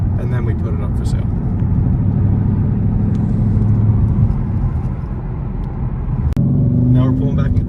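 A 2013 Ford Mustang Boss 302 with 455 miles rolls into a dealership, its engine a steady low rumble from inside the cabin, with a brief sharp click near the end.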